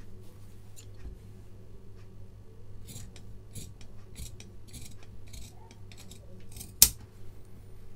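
Scissors cut through fabric for a kaftan neckline: a series of soft, scattered snips close by in a quiet room, ending in one sharp louder snap.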